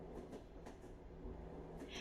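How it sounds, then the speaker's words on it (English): A train rolls along its rails in the game Flawless Abbey, a low, steady rumble with faint repeated clicks, quiet and continuous for the whole stretch. "We're on a train."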